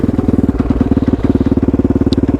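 A Kove Factory Dakar rally motorcycle engine thumps loud and close in a fast, even pulse, deep and insistent, with a brief lift in revs near the end.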